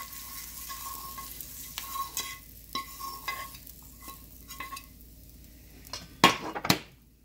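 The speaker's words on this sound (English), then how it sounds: "I'm going to take a little bit of this lettuce to swoop my skillet out, so I can get all of that flavor." A skillet is wiped out with lettuce, giving soft scraping swipes and light metallic taps against the pan, followed near the end by a couple of sharper knocks, all close and without talk.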